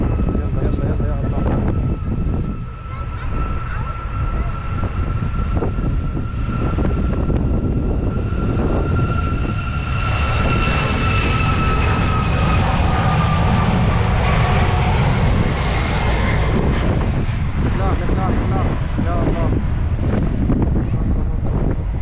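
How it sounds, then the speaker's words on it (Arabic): A fixed-wing airplane takes off from an island airport runway in Portugal, its engines roaring loudly with a rising whine, heard from nearby through wind noise and occasional voices. "وهسه الطياره حتطير، راح نشوفكم شلون تقلع"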